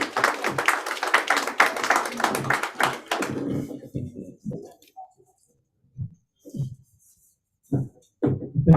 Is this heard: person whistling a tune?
no